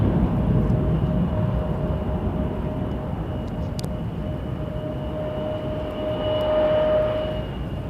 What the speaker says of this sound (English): Jazz 932, starting its roll on runway 23.